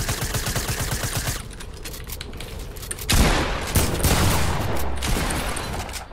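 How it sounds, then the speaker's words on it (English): Automatic AK rifle fire in a video game: loud, rapid bursts of shots crackling in dense succession, dropping briefly and then resuming in heavier, ragged volleys. "I only have 8 more shots with the AK"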